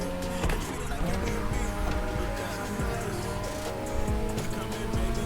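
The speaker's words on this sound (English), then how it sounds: "Keeping the high revs." A racing car engine held at high revs in the video game The Crew Motorfest whines steadily with layered tonal harmonics, loud and close, with faint talk mixed underneath.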